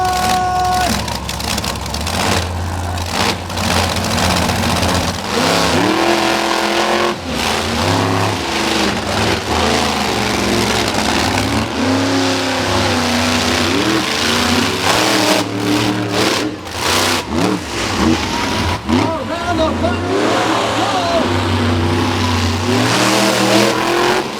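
Monster truck engines roar and rev continuously during a race at an arena show in Gaithersburg, Maryland, loud and close with rising and falling throttle surges throughout, no talk.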